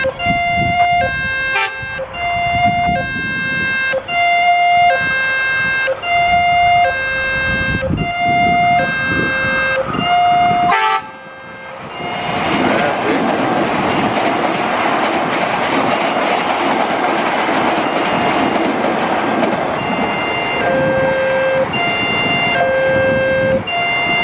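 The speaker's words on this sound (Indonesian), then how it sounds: "Biasanya KRL ini disusul Argo Dwi Pangga di stasiun Prambanan." A passenger train rushes past at Sumyang with a repeated, sustained multi-tone horn blaring over rumbling wheels, then a sudden loud wash of rolling rail noise and clatter as the cars go by close up, with a final horn note near the end.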